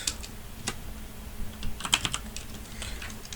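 Keystrokes on a computer keyboard as a short cd command is typed at a command line, a sparse run of light, close clicks with a quick cluster near the middle, no voices.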